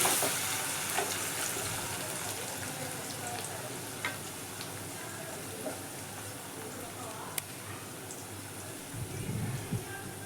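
Chicken masala curry with curry leaves simmers and fries in a pan, making a soft, continuous bubbling sizzle with occasional light clicks and stirring scrapes, faint and close.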